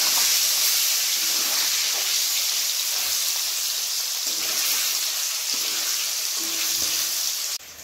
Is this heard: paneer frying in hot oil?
yes